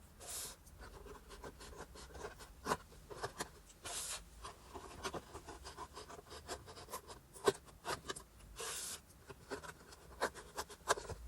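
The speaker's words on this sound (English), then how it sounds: "what we're left with is just some little tabs which are nice and easy to cut" Blade cutting through small card tabs on a paper candle theatre opening, faint scratchy scraping strokes with occasional sharp ticks, close and quiet.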